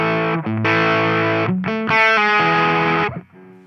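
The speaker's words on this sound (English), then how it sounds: "Now we're going to the OD1 style." A guitar played through a Mozztronics GD-1 Bone Breaker "Green Drive" overdrive pedal in its OD1 style gives a few loud, sustained distorted chords that ring out, then cut off near the end. No one speaks.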